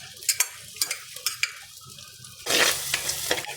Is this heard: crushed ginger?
yes